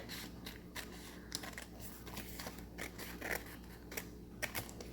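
Scissors snip paper while a library pocket is being made, giving soft, close cuts that repeat in an irregular rhythm over a quiet hum.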